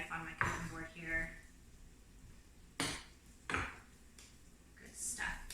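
Avocado is mashed with the flat side of a knife on a cutting board, giving a few soft, damp pressing thuds and scrapes spread across a quiet kitchen.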